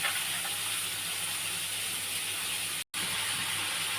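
Chana dal frying in hot oil in a pan on a gas stove, a steady close sizzling hiss that briefly cuts out near the end.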